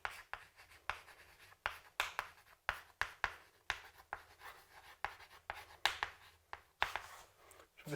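A hand writes an equation on paper in quick, rhythmic strokes, soft scratching bursts repeating with short pauses between, close and quiet with no talk.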